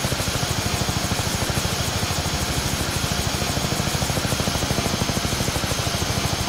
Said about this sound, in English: if you can fly chopper safely without dying, you get to the helicopter